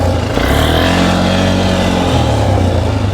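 A four-wheeler ATV engine revs in low gear, a loud, close, continuous motor drone with a rough harmonic growl that holds steady for a few seconds.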